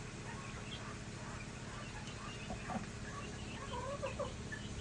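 Chickens cluck and squawk on a Maine farm, several birds calling irregularly at close to moderate range over a steady background hum, with no talking.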